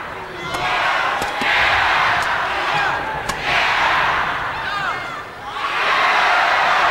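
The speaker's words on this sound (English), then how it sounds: "Crowd really getting behind Susanti here." Large arena crowd at the All England badminton women's singles final roaring and cheering for Susi Susanti, surging in loud waves between rallies, with a commentator talking and a few sharp shuttle hits and thumps in between.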